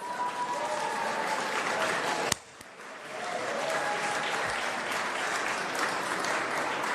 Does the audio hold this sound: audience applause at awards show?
yes